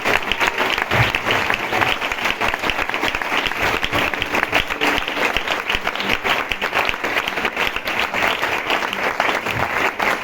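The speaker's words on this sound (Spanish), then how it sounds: "yo quiero un aplauso para este Dios tan maravilloso" A church congregation bursts into sustained applause praising God during a Spanish-language worship service, a dense, steady roar of many hands clapping close by that holds evenly for about ten seconds.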